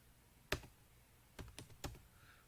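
Four or five sharp keystrokes on a computer keyboard, entering a chmod command in an Ubuntu terminal, isolated clicks in a quiet room with pauses between them.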